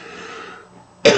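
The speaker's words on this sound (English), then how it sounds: "so I just hope my coughing isn't disturbing him either." A single sharp cough comes at the end, close and loud, after a moment of quiet.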